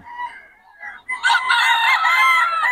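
A young banded stag rooster of Kelso Golden Boy bloodline crows once, loud and close, at a busy market, after a brief softer call.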